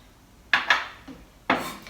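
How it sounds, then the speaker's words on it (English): A knife roughly chops capers on a cutting board: two quick close knocks, then a softer tap and another sharp chop, with brief pauses between strokes. "So just run the knife through the whole lot just a few times."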